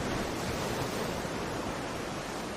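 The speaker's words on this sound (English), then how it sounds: "Listen to that ocean" Ocean waves wash in a broad, steady roar of surf, even and unbroken, heard alone without voices.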